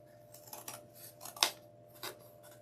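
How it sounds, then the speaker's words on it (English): Scissors trimming craft material for a Candy Land top hat tree topper: a few separate snips, close and crisp, one sharper cut in the middle, set against a quiet room with no speech. "I may need to trim it just a little so that I can get it inside there."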